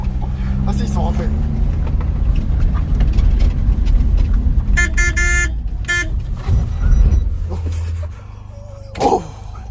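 Car horns blare in repeated bursts over a rumbling Smart Brabus engine and close chatter, with a final short toot near the end.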